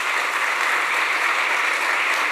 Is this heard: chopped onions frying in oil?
no